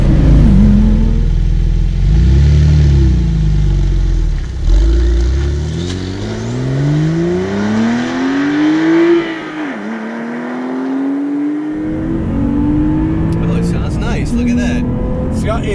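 A 2018 Porsche 911 flat-six revs and accelerates in sport mode, sweeping up and down in pitch before easing off into a low exhaust burble. People talk over it throughout.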